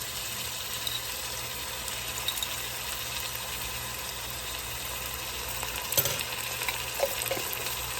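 Five or six cloves of jarred garlic cook in a pan with a steady, soft sizzle and frying hiss, broken by a couple of faint stirring clatters.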